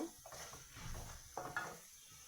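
Boiled banana stem being stirred with cumin powder and chili powder in a pan, a soft, quiet scraping and shuffling with faint light clinks and a low background sizzle.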